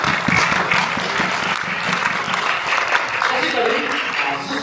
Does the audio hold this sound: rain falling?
no